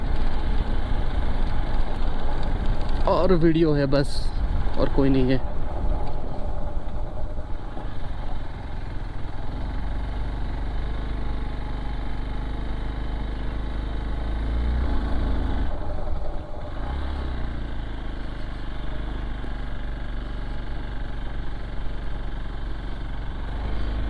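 A vehicle engine runs on a quiet early-morning road between Nanded and the Deomali hills, a steady low rumble with a brief burst of louder revving near the start, while someone talks over it.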